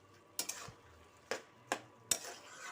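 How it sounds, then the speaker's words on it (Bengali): Carrot halwa stirred hard in a pan, a few sharp scraping knocks of a spoon against metal spaced unevenly over a faint background. "আমি খুব জোরদার নাড়াচাড়া করতেছি।"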